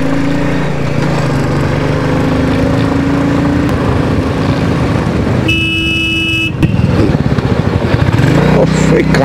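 A motorbike rides the curving hill road of NH 10 between Siliguri and Gangtok, its engine droning steadily and close throughout, with passing traffic and a brief horn-like tone partway through.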